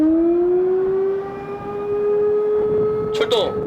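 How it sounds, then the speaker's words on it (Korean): A loud alarm siren wails steadily at a naval base during a combat readiness drill, its tone rising slightly, with a brief rattle of other noise near the end. "사이렌 소리가 울리자"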